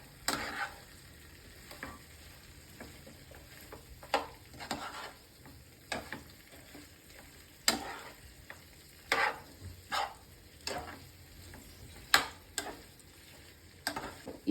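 Broccoli manchurian being stirred and fried in a pan, a quiet background sizzle broken by irregular scraping clicks and taps of the spoon against the pan, alone with no voices.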